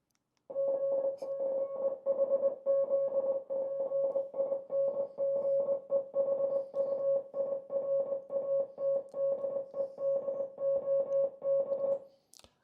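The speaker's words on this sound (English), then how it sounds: "here we have the first line of the incoming Morse transmission" A German Morse code transmission is played back as a steady single-pitch tone keyed into dots and dashes, a fast, even rhythm running for about twelve seconds, loud and clean with no voices over it.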